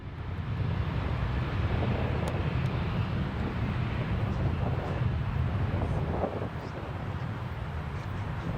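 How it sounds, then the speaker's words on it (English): An airplane takes off down a 13,000-foot runway, its engines producing a steady, heavy roar with a deep low rumble and wind-buffeted noise that holds strong throughout. "The plane taxied to the runway and hit the gas."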